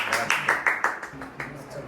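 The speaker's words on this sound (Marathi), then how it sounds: "आपलं 2 मिनिटं टाळ्या वाजून जरा स्वागत करू आपण" A small group claps in welcome at a Ganpati decoration gathering, a handful of sharp, fairly even claps in a loose rhythm, moderately close and not very loud.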